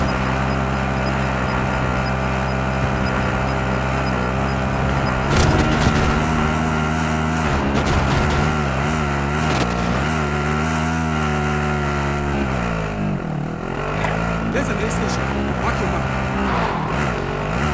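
A car driven in Call of Duty Modern Warfare: a steady, loud engine drone with shifting pitch runs throughout, with voices talking over it.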